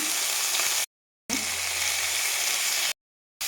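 Chopped tomatoes and green chillies hiss and sizzle in a hot pan for a Bengali banana flower dish, a steady close frying crackle broken twice by abrupt silent gaps, with no voices.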